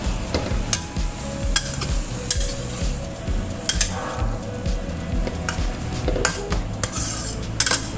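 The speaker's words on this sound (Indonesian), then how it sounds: "Lalu aduk." Bitter melon with salted fish being stirred in a pan, a utensil scraping and clinking against the metal over a steady frying sizzle, with sharp repeated clatters throughout and no talking.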